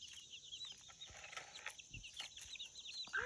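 A chicken clucks in short, close, irregular bursts with scattered higher squawks, fairly quiet and alone with no talking.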